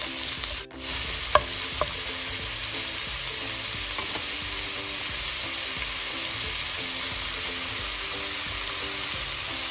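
Crumbled Calabrian sausage fries in a pan with a steady, bright sizzle throughout, close and even, with a few light knocks of stirring and no talk.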